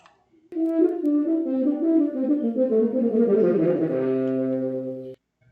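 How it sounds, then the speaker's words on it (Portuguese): A mellow, warm euphonium plays a smooth descending phrase, ending on a long held note before cutting off abruptly. "É o som do eufônio"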